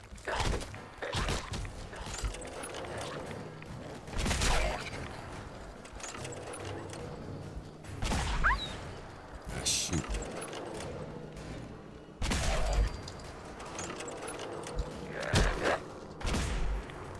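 Gunfire in the Fallout 4 video game, several loud separated bursts of shots spaced a few seconds apart, with thuds and movement noises between them and voices talking.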